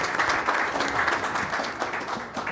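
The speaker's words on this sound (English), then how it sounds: "Round of applause." At a college women's basketball media day, an audience gives a brief, lively burst of applause: a close, dense patter of clapping that stays loud throughout and trails off slightly at the end.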